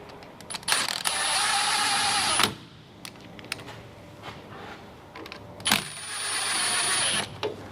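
A ratchet wrench tightens transmission bolts into the aluminium extension housing of a gearbox on a 1970 Plymouth Fury GT, in two rapid clicking bursts separated by a quieter pause with a few metallic knocks.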